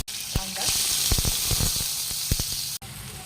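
Mustard seeds, cumin and curry leaves crackle and sizzle in hot oil in a kadhai, a dense continuous hiss broken by sharp popping bursts, close up, cutting off abruptly near the end.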